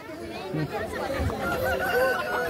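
A rooster crows amid the bustle of a rural village weekly market in Okhaldhunga, Nepal, its calls rising over crowd chatter while people talk nearby.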